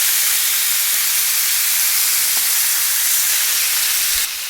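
Squid sizzling on a very hot cast iron grill, a loud, steady hiss of frying that goes on without a break and drops off abruptly at the end.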